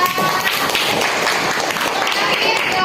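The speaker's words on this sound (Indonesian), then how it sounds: "tepuk tangan untuk Alisa" A classroom crowd of teachers and students claps for a student after her turn, dense, steady applause filling the whole moment with voices mixed in underneath.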